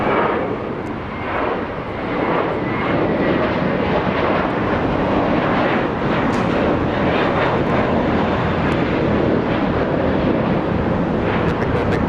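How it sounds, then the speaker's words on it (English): A Japan Airlines Boeing 787 Dreamliner roars past at an airport, a loud, steady broadband jet rumble that holds for the whole span with wind buffeting the microphone. "There goes Japan Airlines Dreamliner."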